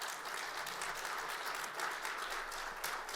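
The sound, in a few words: audience applause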